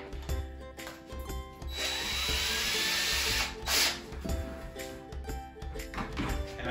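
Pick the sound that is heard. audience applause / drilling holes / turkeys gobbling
drilling holes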